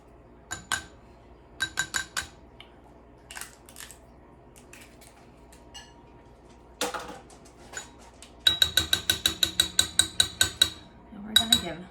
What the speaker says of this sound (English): we're gonna give that a whisk. All right, I have a little mini whisk for this